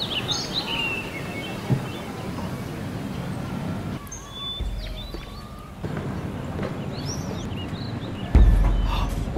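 Birds and pigeons call intermittently over steady city street ambience, with scattered chirps and coos mixed into traffic hum and occasional louder thumps.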